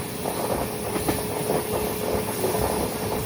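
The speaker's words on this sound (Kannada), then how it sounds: "ನೋಡಿ ಯಾವ ರೀತಿ ಸ್ಪೀಡಲ್ಲಿ ಹೋಗ್ತಾ ಇದೆ ನಮ್ಮ ಟ್ರೈನ್" A fast passenger train rumbles along the tracks at speed, steady rolling noise with a faint rhythmic clatter, heard from inside, no voices.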